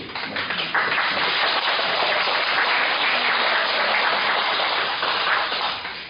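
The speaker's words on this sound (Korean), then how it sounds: "우리 교사들에게 박수" Church members applaud the teachers of their children's center, a broad steady wash of many hands clapping, continuous and fairly loud for about six seconds with no talk over it.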